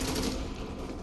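Rapid AK rifle fire in the shooter video game xDefiant rattles out as a dense, loud burst of automatic shots that runs without a break through the whole short moment.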